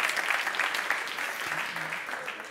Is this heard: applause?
yes